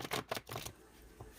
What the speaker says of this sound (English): since I'm shuffling, it's going to take me a minute